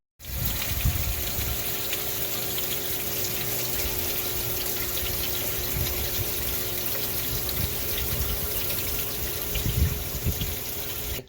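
Water runs and trickles steadily through a soil-free hydroponic tower garden with rock wool planters, driven by a pump, giving a constant close gushing splash with a low hum beneath, no voices.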